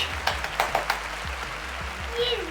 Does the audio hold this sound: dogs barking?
no